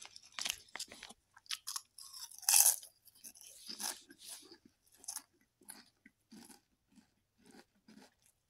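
Sour cream and onion potato chips crunched in close bites, giving sharp, irregular crackles followed by softer chewing, with quiet gaps between mouthfuls.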